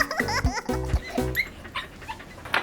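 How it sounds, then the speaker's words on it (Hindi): Cartoon dog in a Hindi comedy animation yipping and whimpering in a few short, loud, high-pitched bursts, mixed with brief laugh-like cries, close and clear with no talking. "ओए, ये मजदूर का कुत्ता है"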